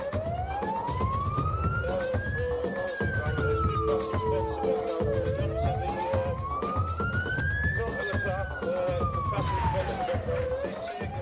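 A stolen NHS ambulance's wailing siren sweeps slowly up and down in two long cycles while it is flung round corners, loud and continuous over engine and road noise, with no one speaking.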